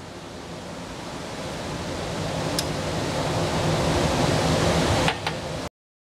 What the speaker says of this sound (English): So the water is gently boiling.